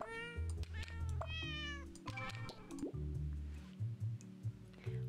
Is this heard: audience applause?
no